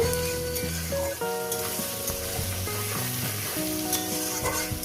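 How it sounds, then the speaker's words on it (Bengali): Chopped onions fry in a pan for chicken and potato curry, giving a steady, close sizzle with occasional stirring scrapes, while background music with sustained tones plays beneath. "পেঁয়াজ কুচোটাকে দিয়ে সুন্দর করে আমি মিনিট দিয়ে সুন্দর করে ভেজে নেব"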